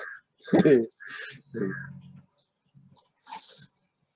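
A few scattered crow caws, harsh and fairly close, with short gaps and a breathy, uneven quality, heard alone without talk.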